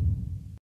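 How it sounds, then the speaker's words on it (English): Heartbeat sound effect from CapCut: under a second of a low, muffled thump with a dull throbbing tail, then silence. "Heartbeat."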